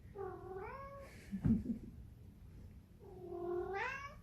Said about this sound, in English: This is my loud cat. He likes to talk.